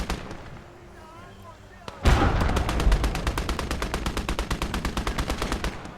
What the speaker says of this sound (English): That's our artillery's found that vehicle.